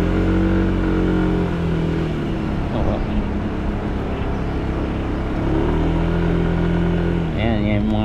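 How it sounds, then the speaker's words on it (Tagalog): A group of motorcycles rides past on a road in Miaoli, Taiwan, with engines droning and revving steadily close by for several seconds, a louder rising pass near the end. "Ito yung mga motor nila."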